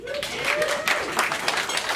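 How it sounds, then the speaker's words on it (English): A comedy club audience applauds steadily at a stand-up show, a dense wash of clapping with a voice speaking over it near the start. "I need a round of applause"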